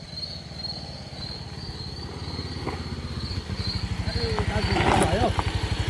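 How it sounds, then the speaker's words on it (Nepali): A motorcycle on a rural road putters with a rapid, regular engine pulse that grows louder as it draws nearer, while people talk over it. "भाइ पर बाइक आउँदैछ"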